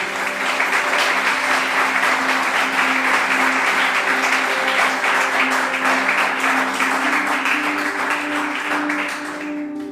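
A church congregation claps in a loud, continuous burst lasting about ten seconds, with a low musical drone underneath and the applause tapering slightly at the end.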